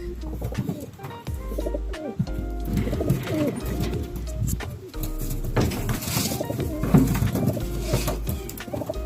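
Over 30 racing pigeons coo softly and steadily in a close group inside a basket, with light shuffling and fluttering around them.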